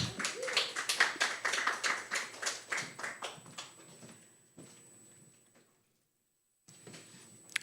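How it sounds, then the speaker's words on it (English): Small audience at an anthology book celebration clapping, sharp distinct claps close by that thin out and fade within a few seconds, followed by near silence. "Let's give a warm round of applause to Angelina Sáenz."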